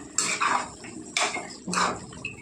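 A bottle gourd stew being stirred in a cooking pot, with three distinct bursts of metal spoon scraping and clinking against the pot, close and moderately loud, separated by short pauses.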